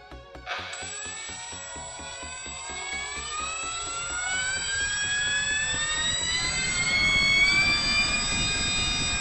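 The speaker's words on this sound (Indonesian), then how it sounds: "Lumayan halus ya suara motornya ya." Top RC Hobby 800mm Tempest RC jet's motor spools up from a start into a smooth, steady whine that climbs in pitch and holds loud and close for the rest of the run.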